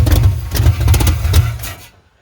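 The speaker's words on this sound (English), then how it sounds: "We'll idle her up a little bit." A carbureted 383 V8 in a C10 pickup runs roughly for about two seconds, a loud, close, lumpy low rumble with uneven pulses before it abruptly cuts out to silence.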